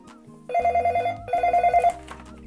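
A telephone rings in two loud, trilling bursts, each a rapid repeated bell pattern, with a short pause between them and quiet room sound before and after.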